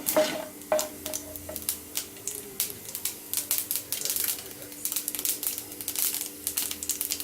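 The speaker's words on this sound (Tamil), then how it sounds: "அடுத்து உளுத்தம்பருப்பு போட்டு கடுகு பொரியுது." Rapid crackling and popping of seeds frying in hot oil, a dense irregular patter of small snaps over a soft sizzle.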